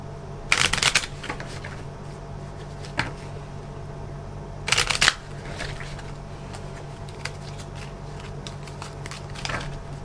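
Tarot cards riffle-shuffle in two quick bursts with a few soft taps and flicks between them, close up over a steady low hum.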